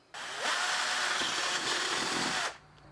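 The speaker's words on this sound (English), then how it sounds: "Now we got that hole drilled out" A power drill whirs steadily for about two seconds as it bores through metal on a go-kart with a Predator 212 engine, starting abruptly and winding down at the end, close and loud.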